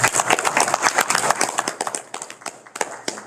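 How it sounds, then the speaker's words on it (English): Scattered clapping from a small audience at a school board meeting, uneven and sparse, thinning out toward the end with no voices over it. "So I want to give Willie a little round of applause for the hard work he does"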